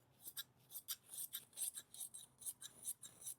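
Quiet, rhythmic snips of scissors cutting Dacron polyester batting away from the back of a foam cushion, about a dozen crisp cuts in steady succession, close and alone.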